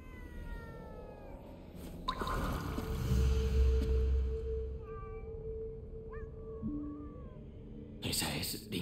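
Several cats meow in Ghostwire: Tokyo, with rising and falling cries that come one after another over a low ambient hum, alongside other game sounds.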